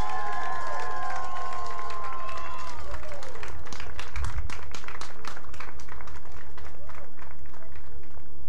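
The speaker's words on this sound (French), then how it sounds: "On les applaudit." A crowd at a girls' 11–13 BMX race podium ceremony at the Jeux du Québec claps steadily and rhythmically, growing into sustained applause after an announcer's voice at the start.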